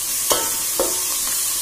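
Onions frying in a pan for biryani give off a loud, steady hiss of sizzling oil, broken by two or three sharp stirring scrapes and with no talking.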